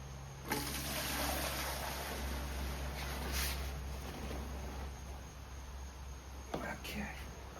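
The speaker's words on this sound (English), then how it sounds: "I'm going to go ahead and give the other side a rinse" Running water rinsing a metal part during rust removal, a steady hissing spray with a couple of brief louder bursts, fairly close and continuous throughout.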